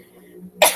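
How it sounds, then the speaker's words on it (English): A single short cough comes at the very end of a quiet moment, close and fairly loud. "I want to cough like so bad."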